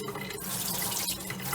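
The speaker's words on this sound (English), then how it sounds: "outdoor shower." Water spraying steadily from a homemade portable outdoor shower, a continuous close hiss of running water with no breaks and no voices.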